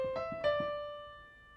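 Piano playing the first fragment of the right-hand melody of a piece in an easy arrangement: a few quick, close notes followed by one sustained tone that rings and slowly fades, played alone and without talk.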